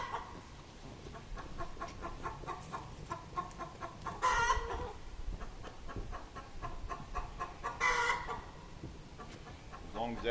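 A homestead chicken clucks repeatedly at close range, with short rhythmic calls and a couple of louder squawks, over outdoor background noise.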